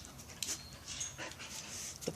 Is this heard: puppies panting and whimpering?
yes